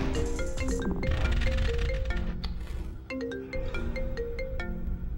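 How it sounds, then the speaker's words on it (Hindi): A mobile phone ringtone plays a bright, repeating melodic tune for an incoming call, loud and close, briefly dipping before the melody resumes, with no talk. "तुम्हारी अम्मी का फोन आ रहा है।"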